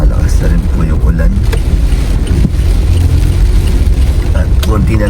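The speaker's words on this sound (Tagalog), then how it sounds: "Ang lakas ng hangin at lumalakas na rin po yung ulan" Strong typhoon wind with rain lashing down, a loud, constant roaring rush of gusts and water that fills the whole clip, with a voice talking over it.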